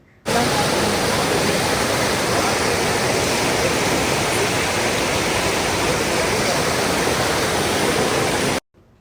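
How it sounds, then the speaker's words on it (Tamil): A river runs at the end of a hiking trail in Vermont, giving a steady, loud rushing of water that starts abruptly and holds unchanged for several seconds before cutting off, with no voices. "இந்த மாதிரி சந்தோஷமாக ஓடுற தண்ணியோட சத்தம் கேட்குறதுக்கே ரொம்ப நல்லா இருந்தது"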